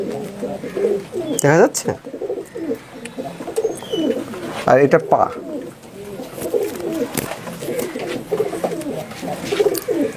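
Nildumba and MA3 high flyer pigeons coo repeatedly in soft, throaty rolling phrases close by, while someone talks over them throughout.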